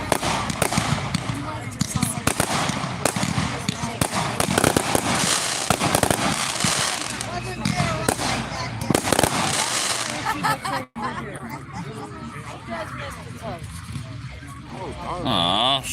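Fireworks at a Fourth of July show pop and crackle in rapid, dense bursts, loud and fairly close, while people talk and shout over them throughout.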